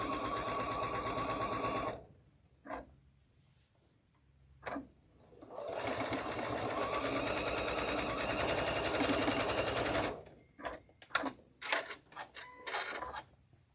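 A sewing machine stitches seams of Moda quilting fabric for a pink patchwork block in two long, steady runs, with a pause between them, then ends in short, choppy bursts.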